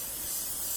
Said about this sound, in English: Let's give this pan a spray.